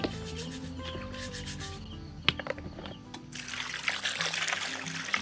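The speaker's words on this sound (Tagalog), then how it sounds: "lilinisin ko na lang muna itong mga kibaw para maibabad ko sa tubig" Water trickles and pours in short bursts while kibaw snails are cleaned for soaking in a rural home, with faint background tones early and a brighter, fuller splashing rush toward the end.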